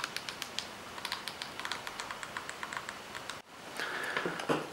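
Button clicks from a Corsair Scimitar Pro gaming mouse, a steady run of light, crisp taps at close range, followed by a brief rustle and louder fumbling at the end.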